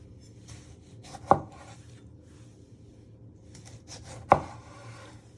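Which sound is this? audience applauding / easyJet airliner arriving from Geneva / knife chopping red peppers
knife chopping red peppers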